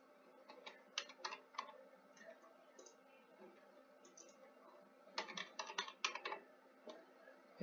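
Quiet, irregular clicking of a computer keyboard during an electronics lab class on an H-bridge with an L293 chip, with keystrokes arriving in loose bursts and a denser flurry near the end.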